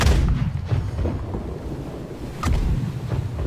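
Ship cannons firing in the Blackwake naval game: a few booming shots, one strong near blast partway through, over steady wind and ocean noise with no talk.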